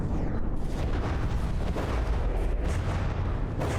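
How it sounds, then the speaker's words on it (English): Heavy naval guns fire in rapid succession aboard a battleship in the From the Depths video game, a dense, continuous barrage of loud booms and blasts with no voices over it. "I wanna see when another one of the APS guns fire."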